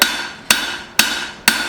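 Hammer forging a taper into a steel cleaver, four loud ringing metallic strikes at an even, steady pace about half a second apart, each decaying into a brief ring.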